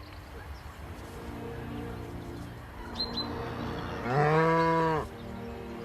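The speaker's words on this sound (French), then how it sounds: "un homme élève une race de vaches très réputée dans la région, la charolaise" Charolais cattle in a herd on an Auvergne farm, with one loud, drawn-out moo rising clearly above a quieter background of distant lowing and faint bird chirps.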